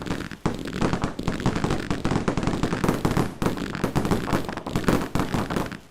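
Rapid volleys of fireworks bursting in the game Fireworks Mania, dense overlapping bangs and crackles filling the whole stretch, loud and close with no talk.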